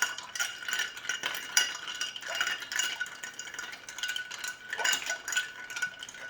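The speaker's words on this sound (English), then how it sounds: "we're going to take our muddler and we're going to put it in. We're going to give it a good stir." A muddler stirs a cocktail in a mixer, quick irregular clinks and scraping rattles repeating close by, fairly quiet and with no talk.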